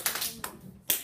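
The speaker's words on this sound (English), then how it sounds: "Clap your hands twice." Students in a classroom clap their hands in short, sharp bursts, a pair of quick claps near the start followed by a single distinct clap near the end, close and moderately loud with no talking.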